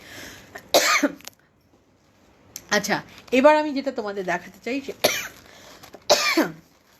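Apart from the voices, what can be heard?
coughing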